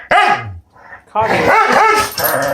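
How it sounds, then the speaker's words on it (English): A dog gives a sharp bark, then a drawn-out mix of growling and whimpering whines, loud and close, with a person briefly speaking nearby. "What are you growling at, honey?"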